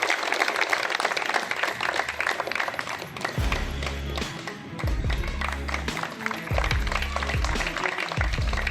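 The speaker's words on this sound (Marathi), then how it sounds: "महाराज साहेबांच्या या स्वागतासाठी जरा टाळ्या जोरदार वाजूया" An outdoor crowd applauds to welcome a Maharaj Saheb at a garden development-works inauguration ceremony. The dense clapping is mixed with intermittent low thumps and a busy, noisy background throughout.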